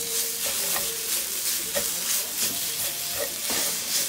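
A spatula stirs Khmer coconut dessert mixture in a hot pan, producing steady scraping strokes over a continuous sizzle and steamy hiss, close and fairly loud.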